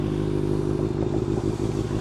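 A Kawasaki ZX6 motorcycle rumbles along a city street, its engine a loud, steady low drone with some clatter and road noise throughout, heard from close by.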